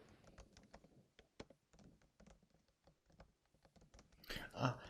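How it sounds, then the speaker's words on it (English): Someone types on a computer keyboard in quick, uneven bursts of soft clicks and taps, nearby and fairly quiet, ending with a louder rustling thump. "I'll keep typing, okay?"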